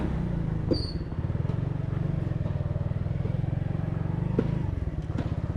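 A motorbike moves along a narrow Karachi street, its engine chugging in a steady, close, rhythmic putter with brief clatters and faint background noise.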